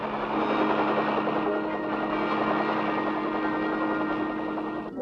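Swarms of U.S. Army military helicopters in 1966 Vietnam air mobility operations, a loud, steady rotor and engine roar holding throughout without a break, close and dense.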